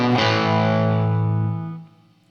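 A single riff phrase on distorted electric guitar, one loud, ringing, heavily overdriven chord-like note sustained and then fading away over about two seconds, with no talking.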